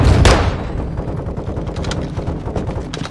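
Gunfire in the Modern Warfare 2 campaign: a loud opening shot followed by rapid, continuous automatic fire in dense bursts, close and sustained without speech.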